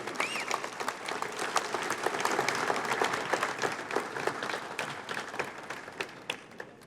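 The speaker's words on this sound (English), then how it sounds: "Another big round of applause," A banquet hall full of people applauding at an awards dinner, a dense round of clapping that swells and then slowly thins out over about seven seconds.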